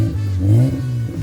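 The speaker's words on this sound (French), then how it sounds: "Oh, voiture japonaise." A Japanese car engine revs briefly and loudly, rising to a strong peak mid-burst before easing off, heard close and alone.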